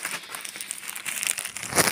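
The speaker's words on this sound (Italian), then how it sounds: "Oggi apriamo un bel pacco che mi è arrivato oggi" A parcel being opened by hand, its packaging crinkling and rustling close up in a continuous two-second stretch that rises slightly at the end, with no voices.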